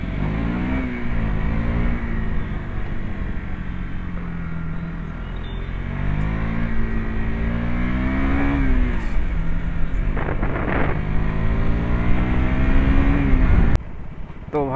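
Motorbike fitted with wheel covers, riding on a cold road, its engine running steadily and close throughout with rising and falling revs, a droning rumble under a voice talking over it.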